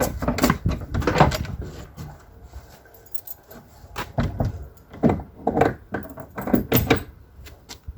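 Metallic clanks and rattles in irregular bursts as a block lock on a shed door is handled and slid into place, with short pauses between.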